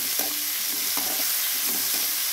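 Tomato and fried onions being stirred in a hot pan, a loud, dense sizzle broken by several quick spatula scrapes and knocks in a short burst.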